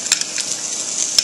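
Garlic sizzles in a frying pan for stuffed pork chops, a steady bright hiss with a few soft clicks as it is stirred.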